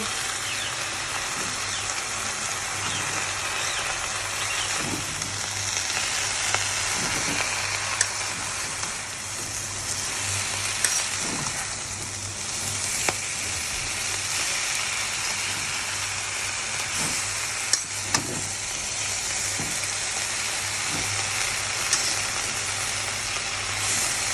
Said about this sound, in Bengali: এক কড়াই থেকে আমি শাক দিয়েছিলাম এই নাড়তে নাড়তে শাকগুলো একদম